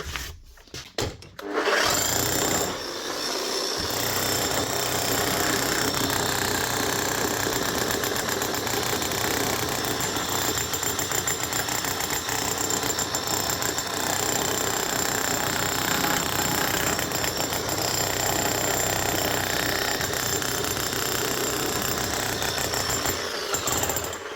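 A Makita HM1202C rotary hammer starts with a few bursts, then runs continuously with a loud, rapid mechanical hammering that stays steady to the end.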